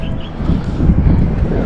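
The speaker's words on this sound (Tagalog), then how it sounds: "biyaya ay medyo may hangin" Wind blows outdoors near the water during a fishing outing, a loud, rough, buffeting rumble against the microphone that continues steadily across the brief stretch.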